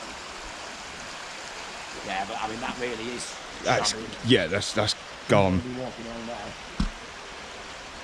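Water gushes steadily from a big pipe at a heritage railway centre, a constant broadband rushing that runs underneath two men chatting nearby.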